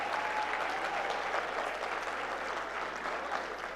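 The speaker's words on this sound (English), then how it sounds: "Ladies and gentlemen, a round of applause for New Orleans' very first female mayor" A conference audience applauds the mayor of New Orleans, a dense continuous clapping from a large crowd that holds at an even level throughout.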